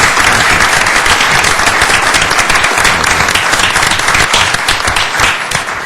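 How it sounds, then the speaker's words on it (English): Loud, sustained applause from a large crowd, steady clapping that fades slightly toward the end. "if we give them a round of applause"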